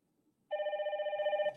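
A phone rings with an incoming call from a two-wire video intercom door station, a single electronic ringing burst of about a second that starts abruptly after near silence and sounds close and clear.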